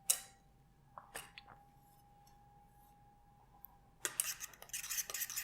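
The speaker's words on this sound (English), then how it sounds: "Give it a nice stir." Tahini sauce with chopped parsley is stirred in a bowl: a few light clinks of a utensil, then a brisk burst of scraping and tapping near the end, quiet and close, with no talk.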